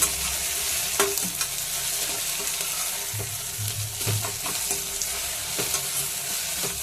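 Potatoes frying in a pan give a dense, continuous sizzle up close, with intermittent scrapes and knocks from stirring scattered throughout, no speech.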